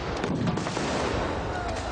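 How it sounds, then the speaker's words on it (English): A volley of musket gunfire from massed samurai gunners crackles as a dense, continuous roar of overlapping shots, loud and sustained without a break. "He ordered them to fire in volleys, one rank moving up to fire, while another rank reloaded."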